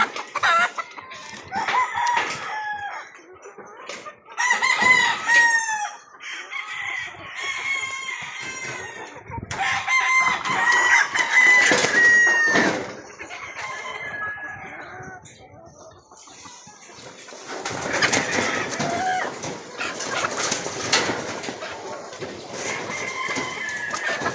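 On a farm where breeding gamefowl are being vaccinated, several roosters crow loudly and repeatedly, their calls overlapping with scattered clucking from hens, while people talk intermittently in the background.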